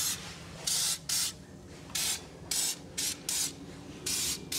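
Short hissing bursts of protective coating sprayed from a can onto the bolts and plate of a Troy-Bilt Vortex Tracker 2890 snowblower, eight or so quick pulses close by over a low background rumble.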